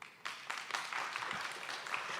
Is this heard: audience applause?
yes